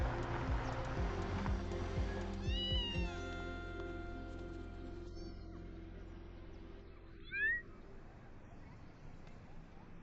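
A cat meows a few times, fairly faint and distant, over a steady low background hum.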